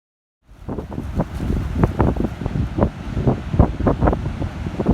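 Strong wind buffets the microphone as tidal surf rolls and breaks in uneven surges at a river mouth near Mallacoota, Australia, with no one talking.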